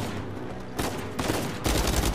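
Gunfire bursts from the video game Uncharted 4, loud and close, with rapid volleys starting near the middle and returning toward the end over a busy game soundtrack.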